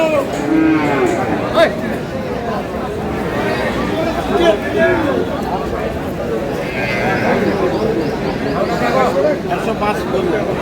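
Cattle mooing loudly several times amid livestock bleats at a cattle market selling dairy cows and calves, with people talking and chattering nearby in a busy outdoor setting.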